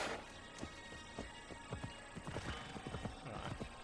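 Horse hooves clip-clop steadily in Assassin's Creed Valhalla, a rhythmic run of muffled thuds set against a dense, continuous background of game ambience.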